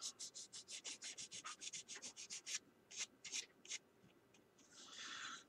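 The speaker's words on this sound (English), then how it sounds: "And you just lightly sand" Sandpaper is run lightly over car body filler in a quick, even series of short rubbing strokes, then a few slower swipes and a longer smooth rub, faint and close with no talking.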